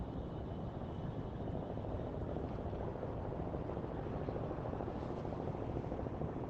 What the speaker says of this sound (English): I hear a helicopter, which is very common.